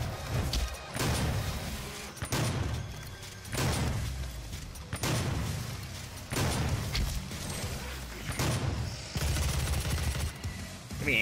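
Super shotgun blasts in DOOM boom out in heavy, evenly spaced bursts, each shot followed by a short rumbling decay, repeating roughly every second or two.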